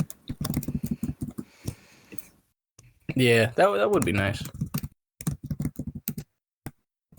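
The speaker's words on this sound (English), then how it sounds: "Can you hear me typing?" Rapid clicking keystrokes on a computer keyboard come in bursts near the microphone, with one person talking briefly in the middle.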